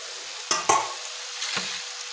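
Pabho fish with turmeric is stirred in a frying pan: two quick scrapes, then a softer third stir, over a faint steady sizzle.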